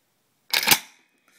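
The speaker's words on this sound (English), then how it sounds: "rack this bolt back" Bolt of a Draco firearm racked back once, a single sharp close metallic clack-slide lasting about a third of a second, followed by silence.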